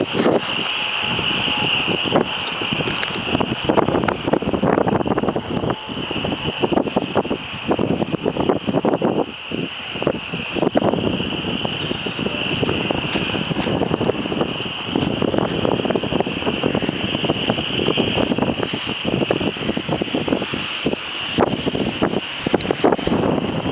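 Strong, continuous wind roars and buffets the microphone during the EF4 tornado storm at Henryville, Indiana, loud and steady with gusty rumbling throughout and no clear voices.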